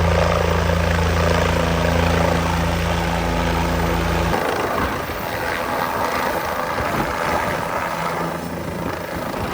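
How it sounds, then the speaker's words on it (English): A State Patrol police helicopter lands at a fair, roaring loudly with a heavy low throb that drops off partway through, leaving a steady whooshing engine wash close by. "the moment the State Patrol helicopter came in for that landing"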